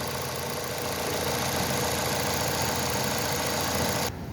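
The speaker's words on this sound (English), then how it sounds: "Okay, with the motor running." A 2018 Ford Fusion's engine idles with a steady, broadband hum and mechanical clatter, close and even throughout, cutting off abruptly near the end.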